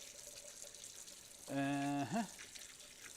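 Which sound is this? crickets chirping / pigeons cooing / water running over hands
water running over hands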